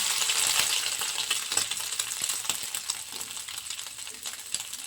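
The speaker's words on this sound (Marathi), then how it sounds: "आपल्याला हलकी फुलकी सोयाबीन याच्यामध्ये फ्राय करायची" Soybean chunks fry in hot oil in a kadhai with a continuous, dense crackling sizzle, plus a few faint clicks of stirring underneath and no voices.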